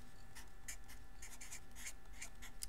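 Pen scratching out a calculus calculation by hand on paper, a quiet run of short strokes in an uneven rhythm, close and faint with no talking.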